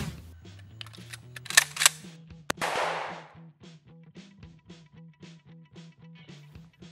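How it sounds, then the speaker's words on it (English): An Ithaca shotgun fires a single Winchester AA birdshot round outdoors on a range, a sharp crack with a brief noisy tail, set among quieter repeated clicks and light tonal sounds. "give him some of this Ithaca as well as a few of these Winchester AA birdshot rounds"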